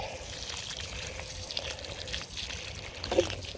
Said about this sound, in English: So you're watering the root ball, you're not watering the topsoil, which will contain all the weed seeds